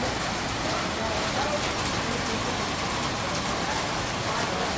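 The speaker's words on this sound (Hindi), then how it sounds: "बारिश आ गई जोर की गजब।" Steady, dense hiss of heavy rain pouring down without a break, with a low rumble underneath like traffic or an engine nearby.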